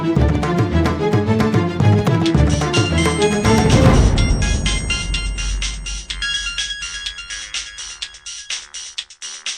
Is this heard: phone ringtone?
yes